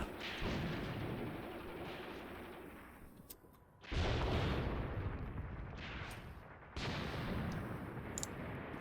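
Gunfire and artillery in Graviteam Tactics: Predators in the Mist 2, heavy and sustained with rumbling booms, briefly easing off before two loud renewed bursts, with no talk over it.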